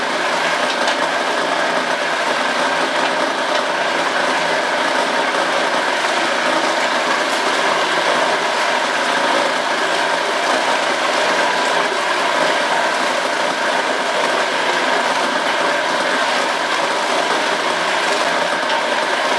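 A meat mixing machine churns lean and fat meat for Thuringer bratwurst, a loud continuous mechanical grind and rattle with a steady motor drone running unbroken and close.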